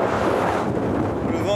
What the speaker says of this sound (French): Le vent est vraiment très puissant.